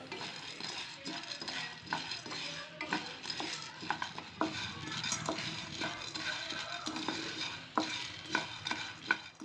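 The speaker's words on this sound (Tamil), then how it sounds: "அதில் 1 கப் பொட்டுக்கடலையை ஆட் பண்ணிக்கோங்க. அதுக்கப்புறம் ஸ்லோ ஃப்ளேமில் வச்சு ஒரு 2 to 3 மினிட்ஸ் நல்லா ஃப்ரை பண்ணிக்கோங்க." Roasted gram (pottukadalai) dry-roasting in a pan over a low flame, with steady scraping and stirring, repeated sharp clinks of a spatula against the pan, and a faint background sizzle throughout, with no voices.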